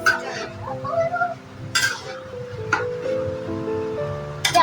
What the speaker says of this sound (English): First, we have to stir it up a little.